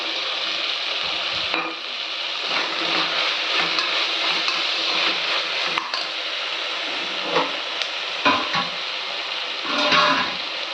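Chana dal sizzles and fries in a pan, a continuous close crackling hiss broken by occasional scraping stirs and clinks of a utensil against the pan.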